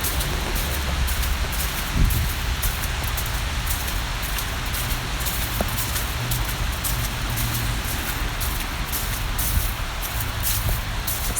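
Steady rain mixed with snow falls on a bike trail, a continuous hiss of close droplets spattering the ground, with a faint low rumble underneath and no talking.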